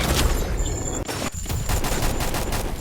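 Rapid bursts of gunfire crackle through a Free Fire-style mobile shooter match, dense automatic shots with brief gaps, loud and close.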